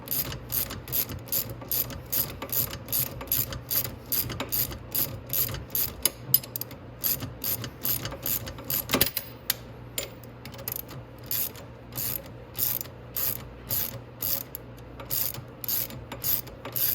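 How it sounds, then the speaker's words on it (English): A ratchet wrench loosens the nuts on the control arms of a Venom 125cc Grizzly ATV, giving close, rapid bursts of clicking that repeat steadily for the whole stretch with no talk. "So you go ahead and just loosen the nuts off."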